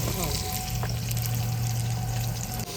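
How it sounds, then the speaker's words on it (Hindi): Spices frying in a pan with salt and red chilli, a steady close sizzle running under a low hum, with a brief clatter near the end. "मिसाले जो है हमारे अच्छे तरीके से भुन चुके हैं।"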